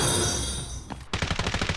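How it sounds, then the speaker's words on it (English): Gunfire in the Call of Duty DMZ video game: a steady background hum that breaks into a rapid burst of automatic shots near the end, each round evenly spaced and moderately loud. "He's definitely shooting at someone."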